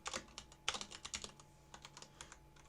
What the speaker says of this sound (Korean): 이런 식으로 타이핑을 해보도록 하겠습니다